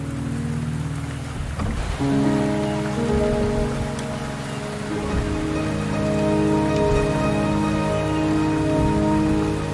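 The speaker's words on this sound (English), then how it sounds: "The rain is subsiding, and the sky will soon clear." Steady rain patters continuously in the video game Wuthering Waves, layered under sustained tonal music, without speech.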